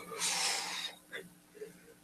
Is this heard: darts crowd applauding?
no